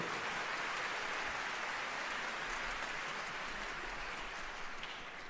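An audience applauds at a speech, a dense, even wash of clapping that holds steady and fades slightly at the end, distant and soft.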